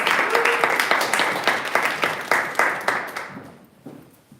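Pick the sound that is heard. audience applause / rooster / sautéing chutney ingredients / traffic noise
audience applause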